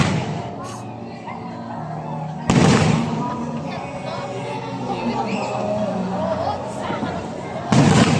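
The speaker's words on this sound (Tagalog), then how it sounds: "The moment I saw the fireworks," Fireworks go off during a field trip with sharp loud bursts at the start and again near the end, while a crowd chatters and talks throughout.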